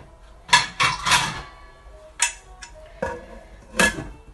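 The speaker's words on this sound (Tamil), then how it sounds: "இல்லை ஒரு பிளேட்டை வச்சு மூடி வச்சுடுங்க." Ceramic plate clinking onto a pot as a lid in a home kitchen during kozhukattai preparation; a few sharp, separate knocks and clatters with quiet gaps between them, close by and without speech.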